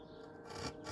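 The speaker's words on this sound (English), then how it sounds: "So if you've not done sawing, I think you want to do it like this first." A short burst of rasping back-and-forth strokes, like a hand saw cutting wood, close and continuous.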